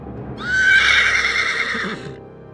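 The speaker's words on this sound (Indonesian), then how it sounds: "Kuda itu meringkik keras." A horse whinnies loudly and close by in one long neigh, rising sharply and then trailing off, with soft hoofbeat clatter underneath and no talking.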